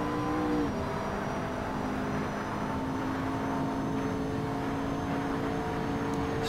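Race car engine under throttle, a steady droning roar with sustained tonal whine as the car accelerates and shifts up through the gears to sixth, close and continuous with no talk.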